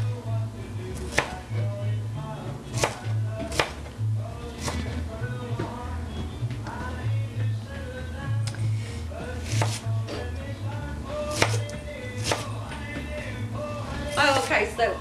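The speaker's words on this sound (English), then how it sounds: "So I'm gonna just chop up some onion here" An onion being chopped on a cutting board, with a long run of crisp, irregular knife knocks, some quick clusters of cuts, while people talk casually over the chopping.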